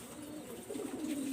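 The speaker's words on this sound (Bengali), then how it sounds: "কবুতর দুইটা" Pakistani Teddy pigeons cooing softly in a steady low murmur, a single pair close by and fairly faint, with no talk over them.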